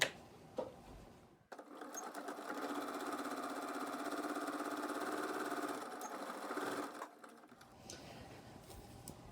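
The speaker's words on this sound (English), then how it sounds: "with my machine, I am just going to stitch a nice straight stitch" A sewing machine runs a straight stitch along the edge of a face mask, a steady close mechanical whir lasting about five seconds between short quiet gaps and small handling noises.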